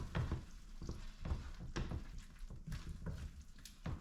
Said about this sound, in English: let me just give it a quick stir